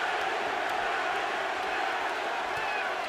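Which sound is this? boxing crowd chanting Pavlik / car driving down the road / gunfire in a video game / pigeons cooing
boxing crowd chanting Pavlik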